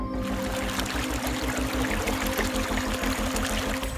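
Chemical-polluted water of the Kasadi river flowing through the Taloja MIDC industrial area, a steady continuous pouring and trickling wash with a low rumbling undertone, fairly close and without voices.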